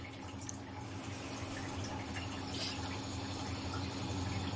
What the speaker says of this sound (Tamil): ஒரு தவா வச்சுக்கோங்க தவாவில் கொஞ்சம் ஆயில் ஊற்றிக்கோங்க